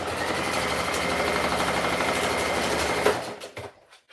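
A sewing machine runs a half-inch seam on a shirt in a steady, close, rapid whir for about three seconds, then slows and stops with a few soft clunks.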